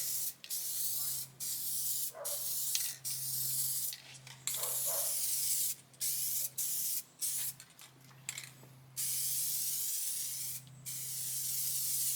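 Aerosol spray paint going onto interior parts of a 1977 Camaro Z28, loud close hissing bursts in repeated passes, some long and some short, separated by brief pauses over a low steady hum.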